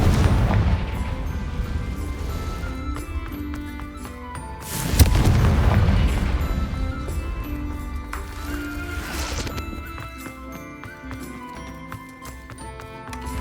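A Confringo fire spell explodes in the game Hogwarts Legacy with one heavy, deep boom partway through. Continuous dense in-game sound and music run before and after it.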